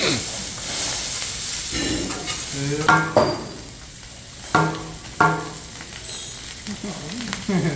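Yakinishi fried rice being stir-fried quickly in a hot pan, a steady close sizzle broken by repeated scraping and tossing strokes of the spatula, with brief voices talking in the background.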